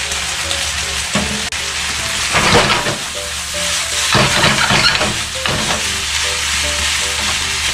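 Garlic chives tossed into a hot pan of salt yakisoba with pork offal, giving a loud continuous sizzle and frying hiss with repeated stirring scrapes and clatters, no voices.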